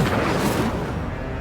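Incendio fire spell cast in Hogwarts Legacy, a short loud burst of flame with a booming, crackling edge, lasting just over a second without any voices.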